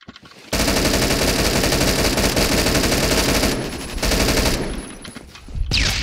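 Video game automatic gunfire fires through walls in long, rapid bursts, loud and sustained, breaking off briefly in the middle and again near the end before a final short burst.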